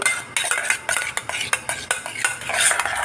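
Cooked moong dal is mashed in a pot with a metal utensil, which makes a rapid series of close scraping and tapping strokes against the pot in a steady rhythm.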